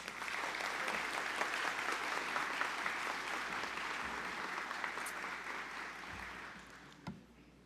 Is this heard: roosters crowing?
no